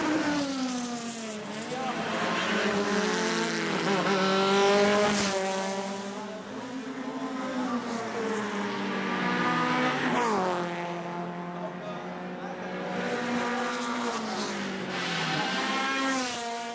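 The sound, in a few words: race cars racing at Veliko Tarnovo circuit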